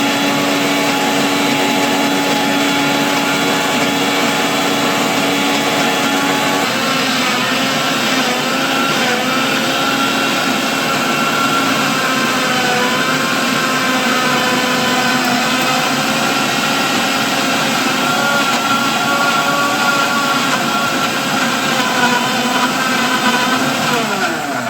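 A mixer grinder blends tomato with a splash of water into a paste, giving a loud, continuous motor whir and whine close by that runs unbroken the whole time, with no talking.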